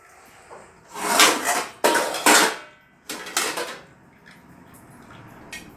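A lid goes onto a pan of small chuna fish cooking in turmeric leaves over low heat, with several close metallic clanks and scrapes in separate bursts, then quiet.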